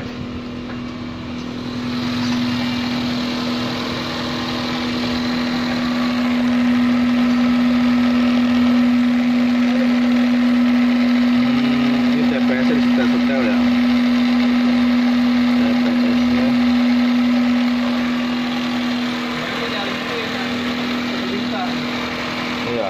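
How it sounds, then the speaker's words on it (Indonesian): Car engine idling under a mechanic's scanner check for high RPM, a steady droning hum with a strong constant tone as the revs rise and fall slightly, close and continuous for over twenty seconds. "Oke, guys, tinggal RPM-nya naik turun."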